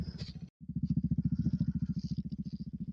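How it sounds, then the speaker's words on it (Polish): A farm tractor engine chugs steadily at close range with a fast regular pulse, starting up after a brief pause and running loud on its own as the farmer drives across wet spring fields to the next plot. "Siadamy na maszynę, jedziemy."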